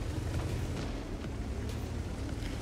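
A tank cannon shell striking its target in World of Tanks, a T-54 First Prototype firing, heard as a deep rumbling boom that rolls on steadily without a sharp onset.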